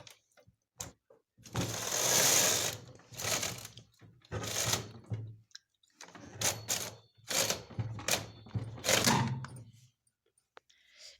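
A punch card knitting machine carriage runs back and forth in repeated bursts of clattering mechanical rattle, each pass a few seconds long and separated by short quiet pauses, heard close and alone.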